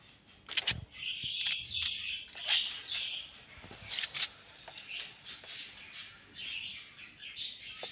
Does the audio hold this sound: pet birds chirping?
yes